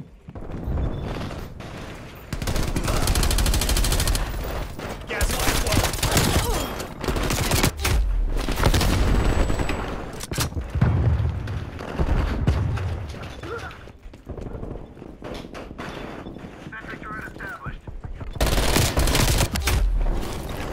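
Rapid automatic gunfire and turret fire in the video game Miami Strike, loud sustained bursts of shots with brief pauses between volleys.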